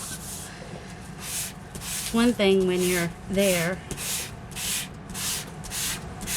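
Rhythmic rasping strokes of a sanding block rubbing against magazine pages repeat steadily, with a short spoken phrase in the middle.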